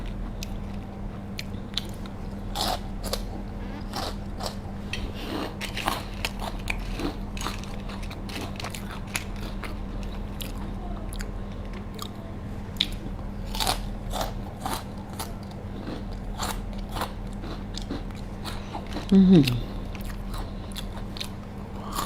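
Repeated crisp crunches of Jack snack chips being eaten close up, an irregular series of sharp bites and chewing over a steady low hum, with a louder crackle near the end and no talking.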